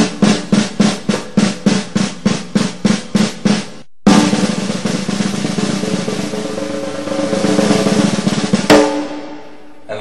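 A drum played with one hand gives a steady series of about a dozen evenly spaced buzz strokes, each a short loud burst, followed by a continuous sustained buzz roll that fades near the end.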